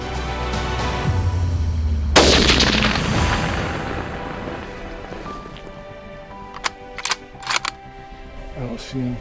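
A hunting rifle fires once at a blacktail deer in high country, a loud close blast whose boom rolls and echoes for several seconds, followed by a few sharp clicks and rustles.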